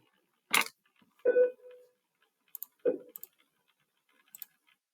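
A handful of sharp, isolated taps and clicks from a calculator keypad being pressed while solving an inverse tangent problem, spaced irregularly, one followed by a brief tone, close and fairly quiet with no talking.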